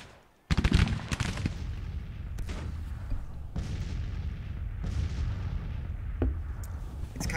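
Artillery bombardment in the Civil War strategy game Grand Tactician: a sudden loud opening boom followed by a string of heavy, spaced cannon blasts over a continuous rumbling battle din.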